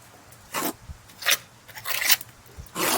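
A trowel spreads lime mortar onto a stone wall in four short, separate rasping scrapes, close and distinct, with quiet pauses between strokes.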